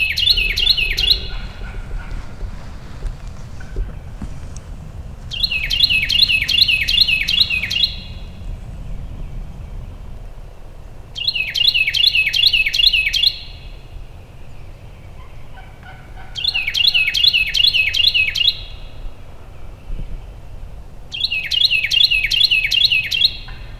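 A wild turkey gobbler calling on Mississippi public land, loud rattling gobbles repeated five times at regular intervals over quiet outdoor background.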